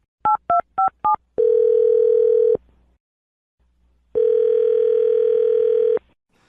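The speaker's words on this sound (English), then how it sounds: "I'm dialing his phone number right now." Four quick touch-tone dialing beeps are followed by two long steady ringback tones separated by a short silence, clean and close on a phone line.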